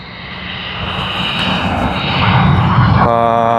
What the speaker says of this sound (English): There's Japan Airlines JL52 departing to Tokyo Haneda.